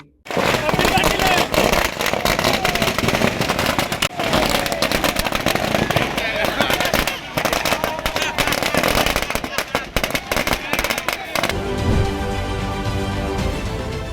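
A long, dense barrage of firecrackers set off by political party workers in Kalyan bursts loudly in rapid, irregular succession, the crackle easing off near the end as a crowd's voices come through.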